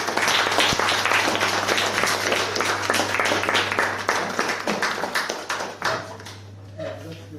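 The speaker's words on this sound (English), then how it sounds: "A round of applause, everyone." An audience at a speakers' forum claps together in a long, steady round of applause that gradually thins out and fades toward the end.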